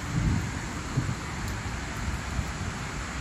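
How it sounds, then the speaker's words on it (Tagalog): Heavy rain falls in Doha with a steady broadband hiss and low rumbling, a few soft thumps suggesting distant thunder, with no talking. "Medyo malakas po yung patak ng ulan mga idol."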